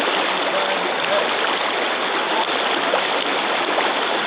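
South Platte River running in winter at a steady moderate flow, a continuous broadband rush and gurgle of moving water, close and even throughout with no voices.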